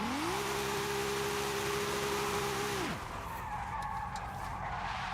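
Tyres screeching as a car drifts in the racing game Forza Horizon 5, a loud sustained squeal with a steady pitch that cuts off abruptly, leaving a lower engine drone and road rumble.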